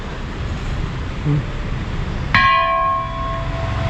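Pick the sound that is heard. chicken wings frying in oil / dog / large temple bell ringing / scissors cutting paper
large temple bell ringing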